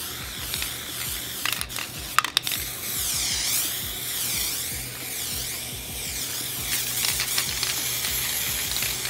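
Guide coat spray paint hisses onto sanded primer on a Mustang GT body, with close, continuous spraying and a few rattling can shakes and clicks in between.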